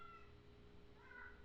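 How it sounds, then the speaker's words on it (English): Pet cats meowing in the background indoors, one faint short meow near the start and another toward the end, distant and soft with no talking. "So my cats, apparently, sorry if you hear them in the background."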